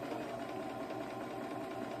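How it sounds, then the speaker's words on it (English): A Singer Esteem sewing machine, freshly cleaned and oiled, runs steadily with an even whirring hum, no squeak, close and constant throughout. "So this is the follow-up video of the Esteem sewing machine after I put her back together again."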